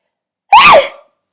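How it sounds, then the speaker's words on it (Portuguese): A single sharp sneeze bursts out close to the microphone, with a voiced tone that rises and falls, then fades over a short breathy tail. Silence comes before and after it. "vou espirrar."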